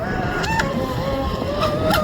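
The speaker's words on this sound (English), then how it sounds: "These fast electric boats." A fast electric racing boat, a SonicWake v2, runs laps in rough water, its motor whining steadily at a fairly fast run, with a rising electric-sounding tone and some splashing water noise, moderately loud and nearby.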